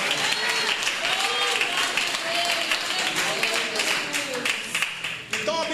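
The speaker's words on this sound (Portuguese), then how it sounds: "Palmas para Jesús." A church congregation claps for Jesus during a bilingual Portuguese-Spanish missionary sermon, with brisk, dense clapping running under a preacher's voice that rises and falls through the stretch.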